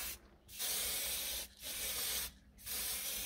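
Matte paint sprayed onto pieces in three hissing bursts with short pauses between, close and steady.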